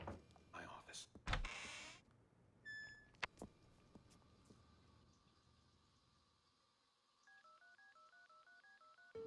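A telephone is dialed in the game Unheard: a series of evenly spaced two-tone keypad beeps runs near the end, after scattered thumps and clatter, with a voice speaking earlier.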